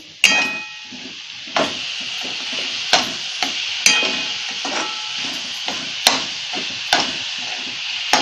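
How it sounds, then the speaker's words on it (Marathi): Coconut and jaggery filling is stirred in a pan over the heat, with a soft continuous sizzle broken by repeated sharp scrapes and knocks of the spoon against the pan at an irregular pace. "गूळ वितळेपर्यंत हलवत राहायचं सारखं। 2-3 मिनिटं मी हलवून घेते।"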